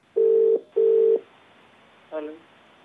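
Telephone ringback tone while a call is placed to a farmer in Haryana, two steady half-second tones close together, then a brief garbled burst from the line.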